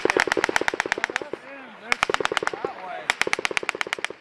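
Machine guns firing in a firefight during a US Marine operation clearing an insurgent stronghold in Kajaki, Afghanistan: loud rapid bursts of close automatic fire, pausing briefly, with voices calling out between bursts.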